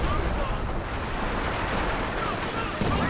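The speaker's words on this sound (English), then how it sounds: "He's got proper artillery." Dense, continuous rumble of artillery fire and battlefield explosions in the real-time strategy game Company of Heroes, steady and loud throughout with no clear gaps between blasts.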